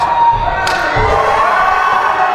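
A wrestling crowd at an 814 Wrestling event cheers and roars steadily throughout, a dense, loud mass of voices with a couple of low thuds near the start.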